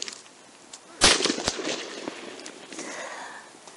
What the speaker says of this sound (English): you can hear the moments that gunshots ring out